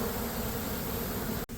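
A swarm of honeybees on a soccer camp field, buzzing and fanning as they move into a box, a loud continuous close-up drone with a brief dropout near the end.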